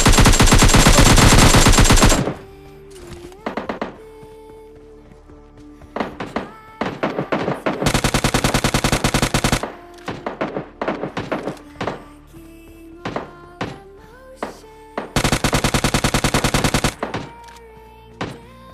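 PUBG Mobile Lite gunfire as enemies are knocked down: three long, loud automatic bursts separated by scattered single shots and short volleys, sharp and close.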